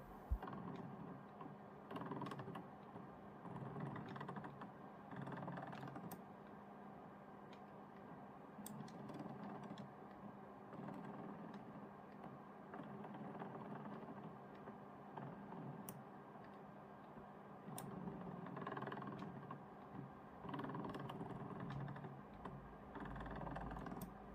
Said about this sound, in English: The lens is extremely noisy and not smooth in its operation.